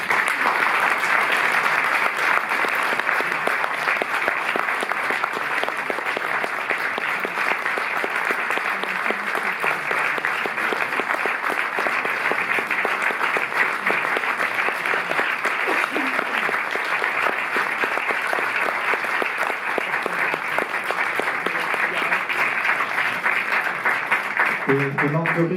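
A theatre audience at a Paris cinema forum applauds steadily to welcome the guest, a comics artist, with dense, even clapping sustained for the whole stretch and a few voices faintly mixed in.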